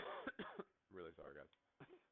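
A person coughs and clears their throat during a Hollow Knight playthrough, several quick rough bursts with short breaths between, quiet and close to the microphone.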